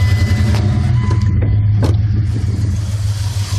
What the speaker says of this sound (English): Fire the truck up.